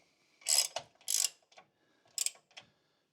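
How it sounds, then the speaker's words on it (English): A ratchet wrench tightening two 15 mm frame bolts at the back of a Kioti UTV snowplow mount, several quick close bursts of clicking separated by short pauses, with silence between. "These are the frame bolts at the back. We're tightening up."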